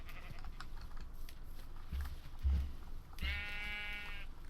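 A Minecraft sheep gives one clear, wavering electronic bleat near the end, following quiet background clicks and soft footsteps, in a modded Minecraft game.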